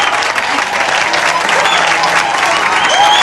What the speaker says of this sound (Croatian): Poslušajte sve te uzvike i taj pljesak.